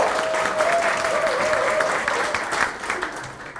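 Loud, sustained applause from a crowd at a political party members' meeting, steady clapping filling the whole stretch without pause.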